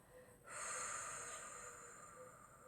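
A slow, steady breath drawn in during a calm relaxation exercise, a soft airy rush that begins after a short pause and then holds close and quiet.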